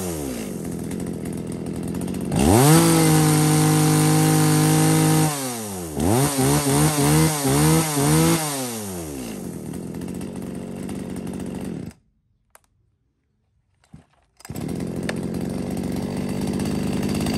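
An ECHO chainsaw revving repeatedly, with a steady high-pitched engine whine, a run of rising and falling throttle blips, then a brief silence before it roars again, loud and close, no voices.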